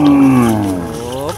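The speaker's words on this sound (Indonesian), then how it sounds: "ini adalah suara sapi memanggil kawanannya" Cattle in a field where hundreds graze give a single loud, close moo that slides downward in pitch as it calls the herd.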